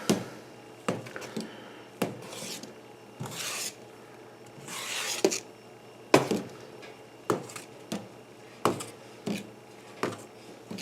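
A spoon scrapes and rubs around a pot of seasoned tomato sauce on the stove, repeated short sharp knocks and rasping strokes in an irregular rhythm, close and fairly quiet with no talk.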